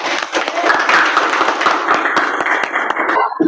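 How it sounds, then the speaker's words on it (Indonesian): A classroom of students claps together in a steady, fairly loud round of applause lasting the whole moment, with individual hand claps standing out from the dense patter before it trails off. "Tepuk tangan untuk kita semua."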